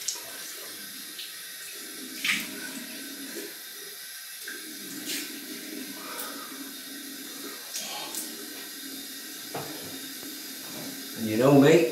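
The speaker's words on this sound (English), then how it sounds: "Cooled water rinse." Cool water runs from a bathroom tap for a rinse after a wet shave, a steady soft splashing and hiss under light background noise, with a louder burst of running water at the end.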